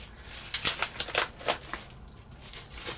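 Packaging for a WAVLINK Thunderbolt 5 docking station rustles and crinkles in a quick burst of sharp crackles, then quieter scattered rustling follows.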